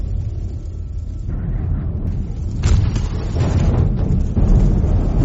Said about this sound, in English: There's like a storm going on.